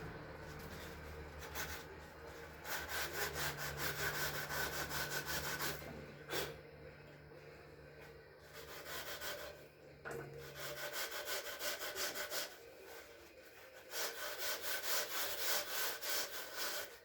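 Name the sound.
sanding with a foam block sander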